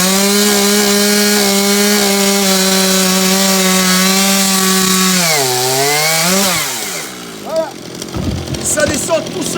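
A manual log splitter working firewood in winter, giving a loud sustained grinding whine with steady tonal pitch that drops and bends, then breaks into cracking, rubbing wood noises.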